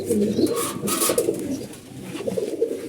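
Pigeons coo nearby in low, soft, repeated rolling calls that keep going steadily, with a faint voice in the background.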